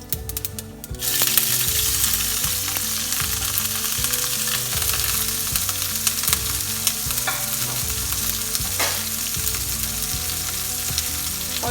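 Green chilli, garlic and ginger fry in hot oil on a lowered flame for Tamil Nadu style dal fry, a loud steady sizzle with repeated scraping stirs throughout and no talking.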